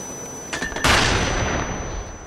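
Gunfire in a competitive search-and-destroy shooter video game: a sharp blast followed by a loud, ringing, sustained decay. No voices are heard.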